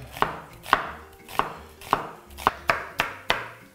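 A knife chops onion very finely on a board in a home kitchen, eight crisp, evenly spaced strokes landing about half a second apart, close and clear with no talking.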